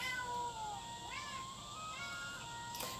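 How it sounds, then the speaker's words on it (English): A house cat meows repeatedly in short rising and falling calls, close and fairly clear, over steady background game music with a bright burst near the end. "My cat is on the nip right now."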